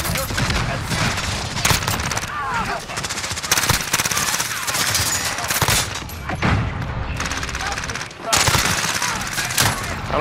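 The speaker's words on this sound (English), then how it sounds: "I'm using my Cx-9" Rapid bursts of CX-9 submachine gun fire in a first-person shooter video game, loud and nearly continuous with brief pauses, layered with other in-game gunfire and effects.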